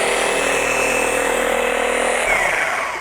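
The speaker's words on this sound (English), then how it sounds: "Once I pick it up, lay the polisher flat." A car polisher runs flat on painted bodywork, giving a loud, steady close-up whirring hum that holds level for about three seconds before starting to wind down.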